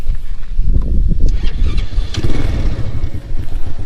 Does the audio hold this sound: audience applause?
no